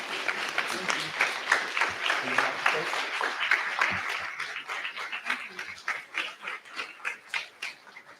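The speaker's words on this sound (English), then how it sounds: "Let's give President Osley a round of applause." An audience gives a warm round of applause for President Osley, dense clapping that stays strong for several seconds before thinning into scattered, distinct claps near the end.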